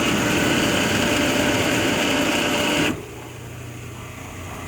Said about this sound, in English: That pump sure sounds noisy now though.